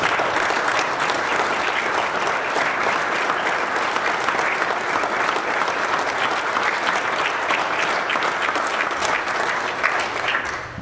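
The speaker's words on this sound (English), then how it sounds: "please stand up and let's give them a round of applause." An audience at a Rotary Club Veterans Day program applauds standing Rotarian veterans, a sustained, even wash of clapping from many hands that fades slightly at the end.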